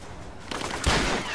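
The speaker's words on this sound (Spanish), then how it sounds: "¿de dónde me vienen los tiros?" Gunfire in the video game Rise of the Tomb Raider: a quick burst of several shots, the loudest crack near the middle, followed by sustained rattling fire, fairly close and alone without talk.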